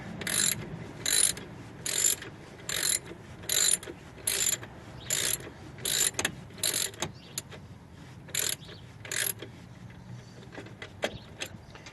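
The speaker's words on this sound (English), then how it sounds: "this is the way of tensioning the belt by using the alternator tensioner" Ratcheting of a tool tensioning the drive belt with the alternator tensioner on a Toyota Corolla during a water pump replacement: regular bursts of sharp clicking, close and fairly loud, with short pauses between strokes.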